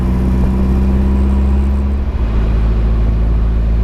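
A Caterham Seven 270S sports car driving at about 36 mph with an open cockpit, its steady low engine drone and road rumble close and continuous throughout.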